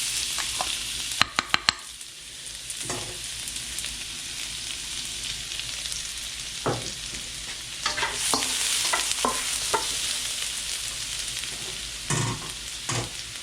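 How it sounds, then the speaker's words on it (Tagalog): Garlic sizzles steadily in hot oil in a pan while being stirred, a constant frying hiss broken by scattered scraping clicks of the utensil against the pan. "Tapos, lagyan natin yung ating bawang."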